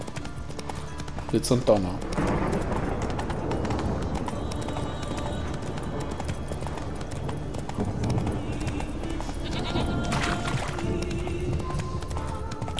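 Horse hooves clip-clop at a steady galloping rhythm while riding across open country in The Witcher 3 video game, loud and continuous under someone speaking German, with a brief neigh near the start.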